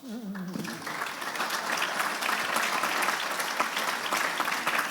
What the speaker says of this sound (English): I'd like a warm welcome applause for all the panel